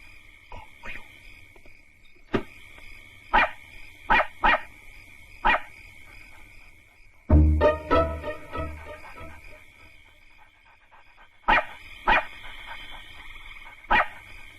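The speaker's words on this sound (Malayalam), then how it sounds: "വല്ലാതെ കിടന്ന് കുരയ്ക്കുന്നു" A dog barks repeatedly in short bursts, a few sharp barks at a time with pauses between, fairly close in an otherwise quiet setting.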